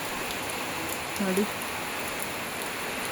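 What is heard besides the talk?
light first rain falling in village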